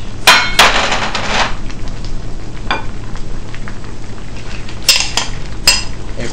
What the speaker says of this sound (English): Now you can add all your vegetables. Add your cabbage,